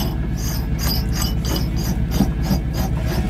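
A drill bit bores into a macadamia nut turning on a wood lathe, a loud continuous mechanical grind with a steady low hum and a rhythmic ratcheting, rasping pulse repeating several times per second.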